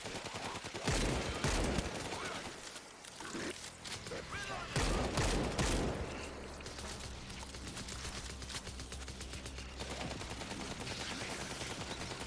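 Rapid gunfire in a video game, with dense bursts of shots and explosions over a steady in-game background rumble, while voices talk over the action.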